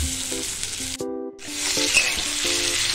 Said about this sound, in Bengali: সর্ষের তেল গরম হলে 5 ফোড়ন ও শুকনো লঙ্কা ফোড়ন দিয়ে দেব